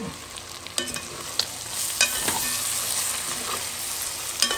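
Lamb chops frying with masala in a pan, stirred with a utensil: a steady close sizzle with scattered scraping and clinking taps of the spoon against the pan.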